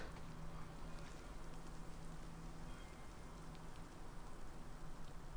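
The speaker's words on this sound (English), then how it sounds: "Looks like it's about to rain." Steady rain falling in The Last of Us game world, a dense even hiss of drops on surfaces throughout, moderately quiet with no voices.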